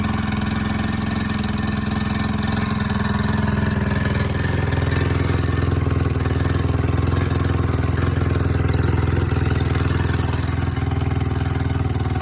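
A used ATV engine idles steadily and loudly for the whole stretch, a constant low mechanical drone with a light rattle running through it and no talking.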